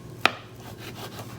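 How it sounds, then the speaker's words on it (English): A knife cuts through biscuit dough for healthy morning bread, a single sharp close chop against the board followed by quiet, soft handling. "cut it into 4 biscuits"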